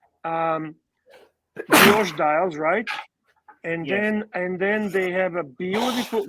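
A person gives a single sharp sneeze, loud and close, breaking briefly into a conversation about engraved watch dials while the speakers keep talking around it.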